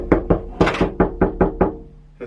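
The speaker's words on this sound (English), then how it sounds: "that's me knocking on the floor." A quick series of about seven hollow knocks on the floor of a Jeep YJ, sharp and close with a slight echo, in an uneven rhythm.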